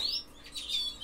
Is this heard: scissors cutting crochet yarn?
no